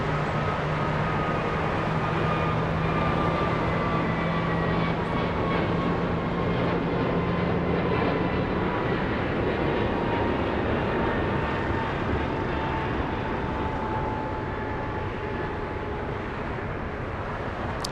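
Aircraft at Los Angeles International Airport produce a steady, continuous jet roar with slowly falling engine tones, heard at a distance over broad airport background noise with no talking.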